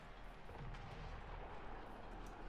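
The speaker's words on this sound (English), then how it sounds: "maybe I can hit their mortar with my mortar" Mortar fire in the Total War: Warhammer strategy game, with a continuous rumbling barrage of booming artillery blasts holding loud and dense throughout the short stretch, with no voices.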